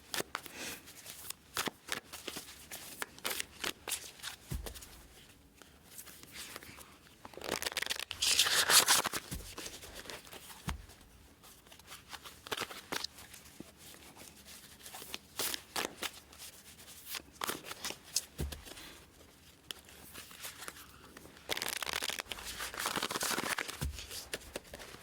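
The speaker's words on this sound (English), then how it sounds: "Just going to shuffle up the deck real good here for you" A deck of tarot cards is shuffled repeatedly by hand at close range, with soft riffling and papery flutters in irregular bursts over a quiet background.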